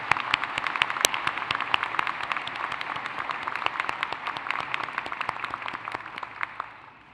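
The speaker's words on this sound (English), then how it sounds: "Let us give them another round of applause." An audience at a Class of 2024 commencement ceremony applauds in a sustained round of dense, crisp clapping that holds steady for several seconds and then tapers off at the end.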